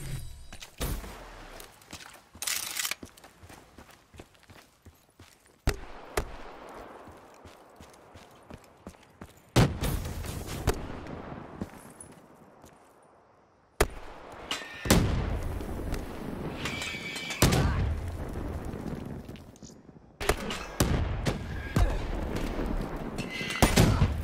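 Artillery and gunfire from Call of Duty Black Ops III, a series of loud booming blasts and crackling shots at irregular intervals, with long rumbling decays between impacts.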